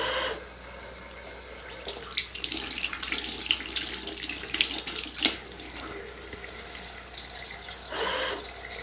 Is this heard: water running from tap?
yes